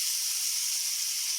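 Onions hiss and sizzle steadily in a hot pan, a bright, even frying noise close by with no voices.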